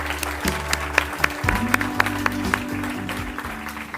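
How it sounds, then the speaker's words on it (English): An audience at the 2025 New South Wales Australian of the Year Awards ceremony claps in steady applause, with sharp individual claps over a continuous patter and music playing underneath. "Let's give them all, another round of applause."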